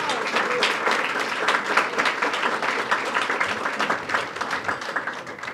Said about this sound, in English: we should clap for that because it was incredible.